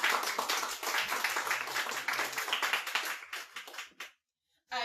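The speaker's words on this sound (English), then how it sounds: "Give yourselves a round of applause," A roomful of people claps steadily at a 100th-episode celebration. The applause is dense and fairly close, runs for about four seconds, then cuts off abruptly into silence before a brief return.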